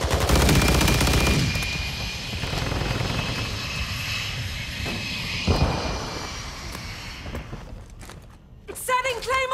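Bursts of automatic gunfire crackle through a video game battle over a droning aircraft or helicopter engine, while radio-style voice callouts speak over the fighting.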